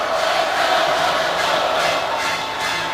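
Buffalo Bills home crowd at a football stadium, a steady distant roar of cheering voices filling the air with no single voice standing out.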